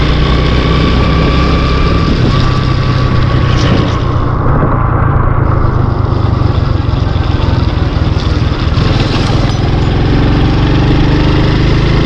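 A motorcycle engine drones steadily and loudly on a rainy Karachi road along the Malir Expressway, a continuous close rumble with a shifting tone and no pauses throughout.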